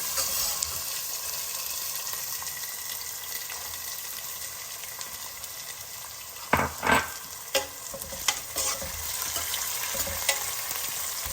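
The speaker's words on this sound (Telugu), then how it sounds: "ఉల్లిపాయలు వేస్తున్నాను" Chopped onions sizzle in hot oil in a pan for corn upma, a constant close frying hiss, with a few scraping stirs of a spoon against the pan near the middle.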